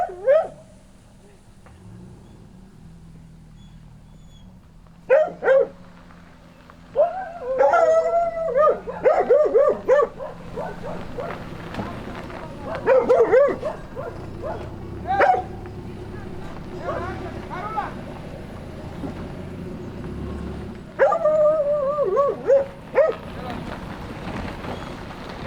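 A hunting dog at a hunters' shelter lets out loud, drawn-out howls and whimpering whines in bursts, with people talking nearby between and over the cries.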